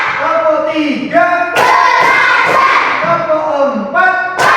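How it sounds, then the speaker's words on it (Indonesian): A classroom of students claps together in a chant, sharp collective claps landing in short bursts between stretches of group voices calling out in unison, loud and close in the room. "Tepuk semangat"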